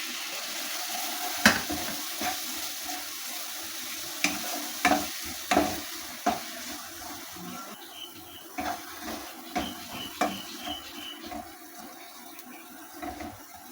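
Masala bhindi (stuffed okra) being stirred in a frying pan over a low flame, with intermittent scraping clicks of the spoon against the pan over a soft continuous sizzle.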